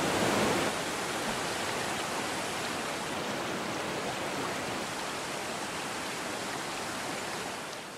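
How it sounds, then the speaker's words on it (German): Waterfall in an Alpine gorge: a constant, dense roar of falling water, loud and close, steady throughout with no voices. "Der Wasserfall wird zuerst gesichert."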